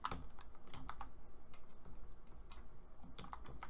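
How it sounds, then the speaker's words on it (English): Keystrokes on a computer keyboard while entering Python commands, a quick run of soft clicks in short bursts with brief pauses, close and fairly quiet, with no talking. "So we simply type file name"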